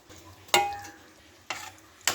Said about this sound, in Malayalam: എന്നിട്ടൊന്ന് കുറച്ച് ഇളക്കി കൊടുക്കുക